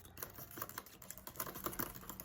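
A MacBook Pro 16-inch keyboard clicks in a rapid, steady run of close typing keystrokes with no voices.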